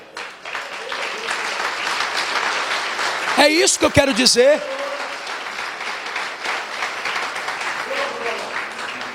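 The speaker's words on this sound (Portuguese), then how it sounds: "Aplauda o Senhor, irmão" A church congregation applauds during a sermon, a steady wash of many hands clapping throughout, with a preacher's voice speaking over it and a brief sung or shouted phrase near the middle.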